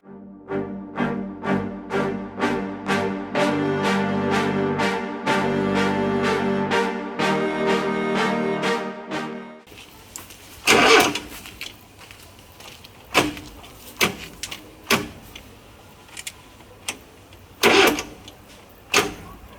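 An off-road Volyn vehicle, idle for four years, cranks from a jump starter with a fast, even run of starter pulses for about ten seconds, then stops. Scattered clunks and knocks follow without the engine catching.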